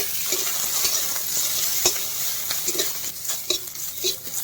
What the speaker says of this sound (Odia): ପିଆଜ ଆମର ଭାଜି ହେଇଗଲାଣି।